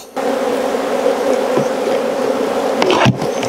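Agitated honey bees swarm around a hive in December in South Alabama, giving a loud, continuous buzzing drone that holds steady close by, with a few brief bumps near the end.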